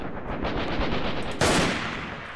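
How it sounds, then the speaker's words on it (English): Rapid machine-gun fire in the video game Freeman: Guerrilla Warfare, a fast, steady string of loud shots. Partway through, a sharper, louder blast hits and then trails off, with no speech. "How are those shots not hitting?"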